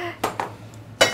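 A hot frying pan is handled while cooking: a few sharp metallic clinks and clanks up close, with speech around them.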